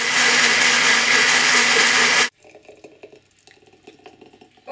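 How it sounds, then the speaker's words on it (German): A kitchen blender runs loudly for about two seconds, whirring through spinach, strawberries and watermelon for a smoothie, then cuts off abruptly into quiet clinks and rustles. "das Ganze kommt jetzt einfach in den Mixer."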